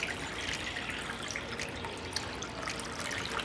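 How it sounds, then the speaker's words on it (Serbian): Water poured into a bowl while preparing pears with lemon juice, a steady close trickling and splashing stream with a few drips, no talking. "u činiju ću sipati vodu."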